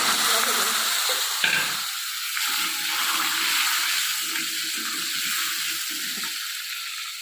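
Bay leaves and cumin seeds hit hot oil in a pan for a village-style snakehead fish curry, giving a loud, steady, close sizzle with faint stirring throughout.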